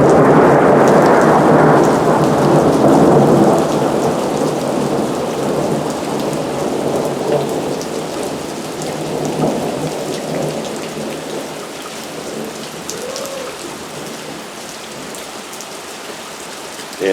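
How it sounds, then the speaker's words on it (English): A torrential thunderstorm with heavy rain pouring down steadily and loudly, deep thunder rumbling through it and the downpour easing slightly over time, with no voices. "aside from the torrential rain coming down, we've had quite a bit of thunder"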